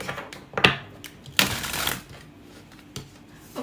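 Tarot cards are shuffled in a few quick riffling bursts, crisp and close, separated by quieter pauses and a soft tap near the end.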